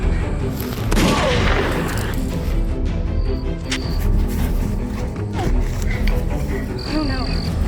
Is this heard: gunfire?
yes